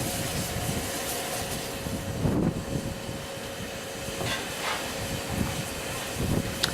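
A steam locomotive standing on the Keighley & Worth Valley Railway, giving a steady broad hiss and rumble with a faint tonal hum and a few soft knocks, heard from nearby.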